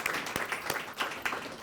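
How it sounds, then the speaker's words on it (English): An audience at a school event applauds, a steady wash of many hands clapping at close range with no gaps. "Let's give her a round of applause."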